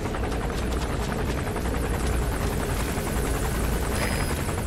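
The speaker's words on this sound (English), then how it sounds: "That's an enemy gunship." An enemy gunship helicopter in the video game Metal Gear Solid V: The Phantom Pain thunders with a loud, steady rotor roar that holds constant throughout, with no voices.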